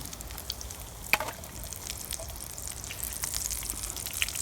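Small drop scones frying in hot fat over a wood-fired twig stove outdoors, a soft continuous sizzle with light bubbling and one brief clink, close and fairly quiet.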